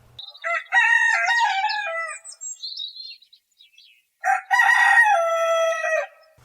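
Chickens and a rooster next door crow loudly and close, two long, strained cock-a-doodle-doo calls separated by a short pause, with scattered clucks between them and no talking.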